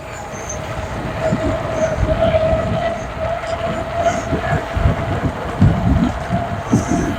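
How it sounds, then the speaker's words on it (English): Windgoo E20 electric scooter tyres whir steadily on the road during a ride, with a constant mid-pitched hum under heavy, gusting wind rumble. "You can hear those tyres whirring around. That is the tyre noise."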